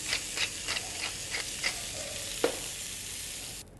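A pork chop sizzles in a hot grill pan on an induction cooktop, a soft continuous frying hiss broken by a string of light clicks and taps and one brief clunk, with no talking.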